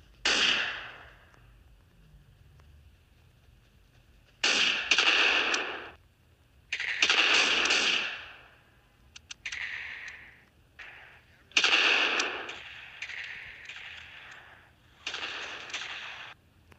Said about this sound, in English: Yo, guys, stop shooting at him.